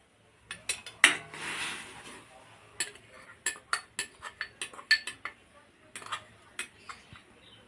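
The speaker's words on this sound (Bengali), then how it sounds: "এখন আমি এর মধ্যে গুঁড়ো দুধ দিয়ে দিচ্ছি।" A spoon stirring milk powder into hot water in a metal pot, with a close series of sharp, irregular clinks and scrapes against the pot's sides, quiet between strokes.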